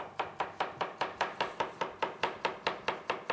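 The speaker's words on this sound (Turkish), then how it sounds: "İnce ince doğruyoruz." A knife chops a carrot steadily on a cutting board, about fifteen crisp, even thin slices in a quick regular rhythm, close and clear with no talking.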